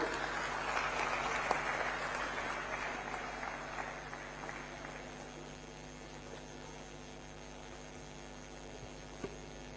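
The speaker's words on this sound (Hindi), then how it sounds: "जोरदार तालियां।" Audience applause at a Chhattisgarh state sports award ceremony as a dignitary walks to the podium, a broad steady clapping wash that is strongest in the opening seconds and then fades to a softer patter over a constant electrical hum.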